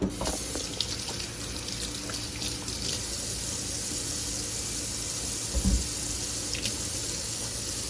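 Hands are washed under a steadily running kitchen tap, with water splashing continuously and close by, plus a brief louder splash near the end; no one speaks.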